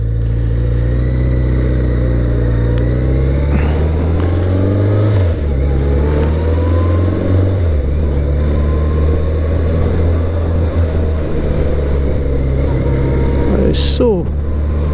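A BMW motorcycle engine drones steadily while riding, its low, loud hum shifting pitch as the bike speeds up and eases off, with a brief higher whine near the end.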